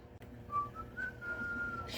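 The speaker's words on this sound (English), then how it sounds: "If you whistle while you blow" A person whistles a wavering tune while blowing air to speed up drying of super glue on anubias decor for a nano aquarium, the whistle close and steady over a soft breathy rush, with a sharp click near the start.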